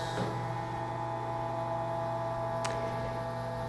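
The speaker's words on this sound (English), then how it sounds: "It's a 50-second vacuum cycle." An Avid Armor ES41 chamber vacuum sealer runs its vacuum cycle with a steady, loud, even mechanical hum, close by and unbroken, with one brief click partway through and no voices.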